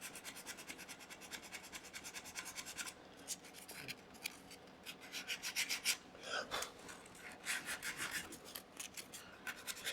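Hand sanding a dried wooden tabletop with 220 grit sandpaper, quiet close-up rasping strokes repeating in an uneven rhythm with short pauses between passes.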